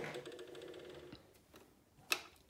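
An Empisal Creations domestic sewing machine, its presser foot lowered with one sharp mechanical click that stands out above quiet, faint mechanism noise and room tone.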